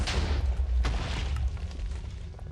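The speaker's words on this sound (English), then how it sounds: "Okay, so just generic explosion sounds." Generic Minecraft explosion sounds, heavy booms with deep rumbling tails, one sharp blast standing out early before the noise gradually fades, loud and close with no talk.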